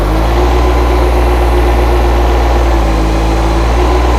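A John Deere sub-compact tractor fitted with pallet forks runs with its engine revved, a loud, steady, close diesel drone with a slight shift in pitch partway through.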